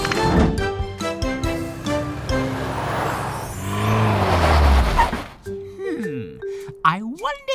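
A cartoon tow truck named Tilly speeds off with a quick whooshing engine rush and a sliding pitch, following busy music and chiming effects, then fading into light tonal sound effects.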